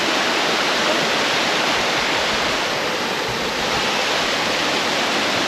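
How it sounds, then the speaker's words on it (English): A river in rural central Portugal rushes steadily nearby, a dense, even wash of flowing water filling the whole stretch with no voices or breaks. "So Molly's going across the river"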